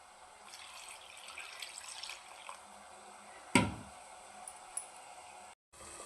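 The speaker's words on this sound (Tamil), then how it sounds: "இதை ரெண்டு தரம் தண்ணி ஊற்றி நல்லா அலசி எடுத்து வச்சுக்கலாம்" Water sloshing and splashing in a container as dried fish is rinsed by hand, with one louder splash midway, quiet and close.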